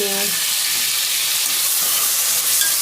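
Loud, close sizzling and hissing as medium-sized tomatoes are added to browned onions frying in a pan for a prawn curry, a continuous dense crackle with faint stirring and no speech.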